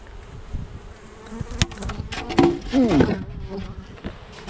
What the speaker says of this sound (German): Ihr seht, die Bienen sitzen alle drauf.